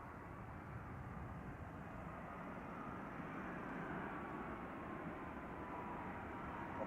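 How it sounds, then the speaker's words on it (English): A Swiss Airbus A330 arriving at Zurich Airport, a distant steady jet engine roar with a faint rising whine, low and continuous with no voices. "quite bigger airplane arriving here. I guess it's a A330, if I'm not wrong, from Swiss."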